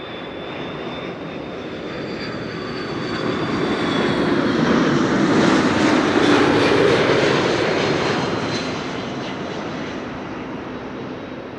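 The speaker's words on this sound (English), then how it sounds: "This is KLM flight 676 arriving from Edmonton, Canada, A330-200." A 20-year-old KLM Airbus A330-200 jet arriving at Amsterdam Schiphol makes a broad, steady engine roar that swells to a peak around the middle and then eases off slowly, with no voices over it.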